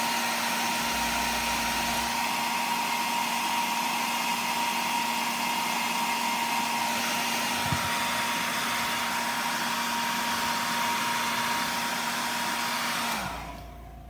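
A hair dryer blows steadily on a freshly painted bluegill fishing lure, a loud continuous whooshing hum running alone for about thirteen seconds before cutting off.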